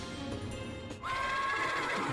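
A horse neighs in the Wintermoor Tactics Club video game, a loud, wavering whinny that rises abruptly over steady background game noise and holds to the end.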